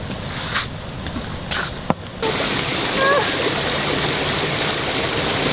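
The Dwafuako Waterfall, a small cascade in a mini park in Jafuakwa, rushes in a constant broadband hiss of flowing and splashing water. A few brief knocks and a faint voice sit under the steady flow.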